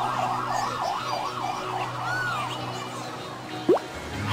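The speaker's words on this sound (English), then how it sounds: "Call the ambulance." An electronic video game ambulance siren wails, sweeping up and down steadily over a constant low hum, followed by a brief sharp blip near the end.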